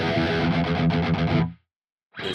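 A distorted electric guitar chugs in tight palm-muted notes, stops abruptly into silence, then starts up again for a brief final burst.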